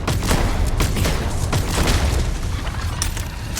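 Shotgun blasts in the video game Starfield, heavy booming bursts firing repeatedly in quick succession, loud and dense with no talking over them.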